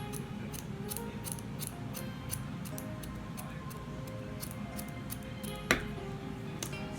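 Scissors snip through hair during a self-cut lob, a steady run of crisp, close clicks at a regular pace, with one louder snap near the end.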